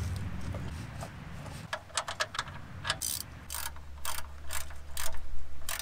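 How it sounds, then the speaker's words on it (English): A ratchet clicking as it tightens an oil drain plug, with a low steady hum underneath; the clicks come in a quick uneven run, then a series of louder, more spaced ratcheting strokes. "when you're tightening your drain plug, yeah, that's about as tight as you want it"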